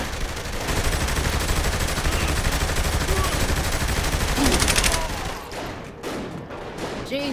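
Dense, sustained gunfire roars for about five seconds in Saints Row The Third Remastered, a loud continuous fusillade of overlapping shots that then thins into scattered bursts with a few louder reports near the end.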